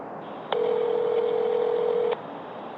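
A mobile phone call is placed: a quiet hiss, then a single long, steady electronic ringback tone held for about a second and a half, followed by a short click as the line connects.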